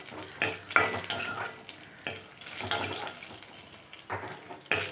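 Green chillies, peanuts and coriander seeds roasting in a pan are stirred with a metal spoon, giving intermittent scrapes and clinks against the pan over a faint, soft sizzle, close by with quiet gaps between strokes.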